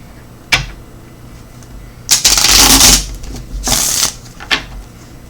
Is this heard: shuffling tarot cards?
yes